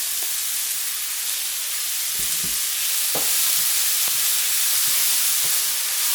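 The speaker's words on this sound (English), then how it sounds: "Try to brown up the white onions." Diced white onions and minced garlic browning in a crockpot slow cooker give a steady close hiss and sizzle, broken by a few soft knocks and scrapes of a stirring utensil.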